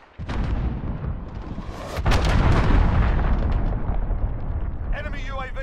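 An enemy cruise missile strike in Call of Duty: Modern Warfare lands as a loud, sustained explosive roar with heavy rumbling booms that swell and then trail off, and a voice breaks in near the end.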